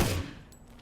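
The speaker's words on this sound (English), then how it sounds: "there's the tactical rifle, burst or semi-auto kind of rifles like this" A tactical rifle fires in a video game, a single loud burst of shots at the start that quickly cuts off into a fading, quiet tail.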